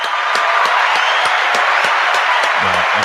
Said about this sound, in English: let's give Coach Rogers a little round of applause